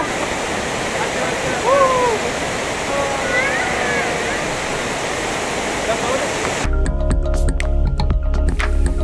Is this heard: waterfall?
yes